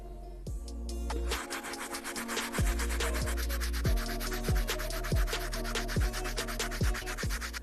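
A stiff bristle brush scrubs the midsoles of an Air Jordan 1 sneaker in steady back-and-forth strokes, a loud close rasping repeated about every half second, with no talk.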